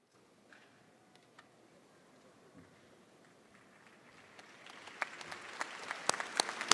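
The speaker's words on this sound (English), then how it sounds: "Round of applause." Applause at a university commencement ceremony, starting as sparse, faint claps and swelling into louder, denser clapping from the audience toward the end.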